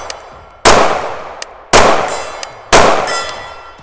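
Three sharp KRISS Vector 10mm shots each end in a ringing clang of rounds striking steel targets about 65 to 70 yards away, spaced about a second apart, with faint metallic pings between them.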